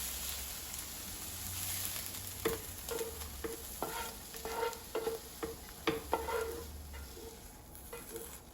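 Oyster mushrooms stir-frying in a frying pan give a steady close sizzle, with repeated sharp scraping and stirring knocks from a utensil across the pan. No one speaks.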